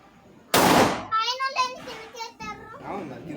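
A single loud firecracker bang bursts near the start, followed by children chattering and shouting excitedly close by.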